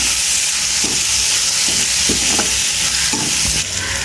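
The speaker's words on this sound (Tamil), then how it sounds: "கறிவேப்பிலையையும் இதோட சேர்த்து சின்ன சீரகம் சிறிதளவு சேர்த்து அதோட நாங்கள் வதக்கி எடுப்போம்" Curry leaves and cumin sizzle loudly in hot oil as the base for an eggplant curry. The frying hiss is constant and close, with soft stirring knocks now and then.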